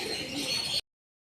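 Pet pigeons at feeding time in the afternoon, a steady close cooing and chirping from the flock that stops abruptly after under a second.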